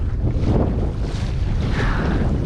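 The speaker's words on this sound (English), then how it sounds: "it is so freaking windy. It's just screaming out here." Strong wind roars steadily, buffeting the microphone with a constant low rumble and hiss, no voices.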